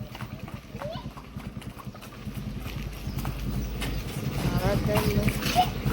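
A horse's hooves clip-clop in a steady rhythm on a street, close by and growing a little louder, with people talking over them throughout.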